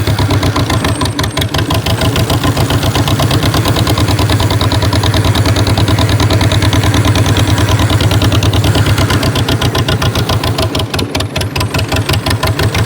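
Old 1949 John Deere tractor engine chugging loudly and steadily in cold weather, a rapid regular thumping pulse throughout with no voices.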